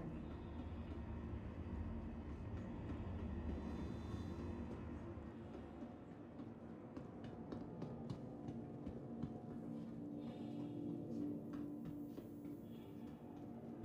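A train in the video game Star Citizen rumbles as a low, steady drone with faint ticking and clicking above it, moderately quiet and continuous, with no talk.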